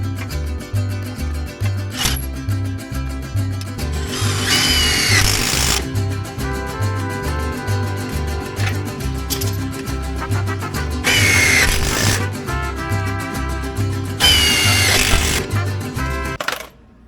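Power drill driving self-tapping screws into a metal frame, in several loud whirring bursts that rise and stop, with clicks and clatter between runs.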